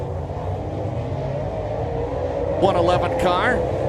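Dirt late-model race cars run hot laps around the dirt track at Batesville during the Lucas Oil Topless 100, a steady distant engine drone under continuous announcer commentary, with a brief rising whine near the end.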